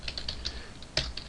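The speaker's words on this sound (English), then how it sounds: "I can copy that so I don't have to keep typing it" Computer keyboard typing while writing Java code, a quick run of light clicky keystrokes in uneven rhythm, close and clear with one firmer tap near the end.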